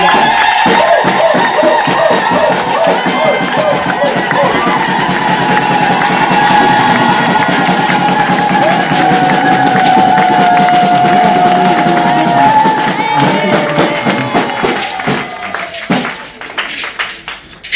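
A church congregation at a gathering in Ouagadougou, Burkina Faso cheers, shouts and claps together in a loud, sustained jubilant roar with ululating voices, tapering off near the end.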